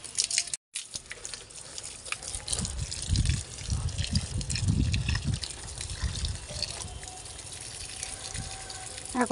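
Water from a hose pipe spraying onto garden plants, a continuous splashing and gushing rush that swells and fades in the low range, with a short gap near the start.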